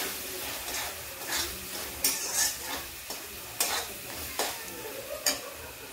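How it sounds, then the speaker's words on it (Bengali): A finely ground spice paste mixture stirred in a frying pan, with a low sizzle and repeated scraping strokes of the spoon at an unhurried rhythm. "ওই মশলার পেস্টটা দিয়ে দিচ্ছি, মিশ্রণটা দিয়ে নাড়াচাড়া করতে হবে"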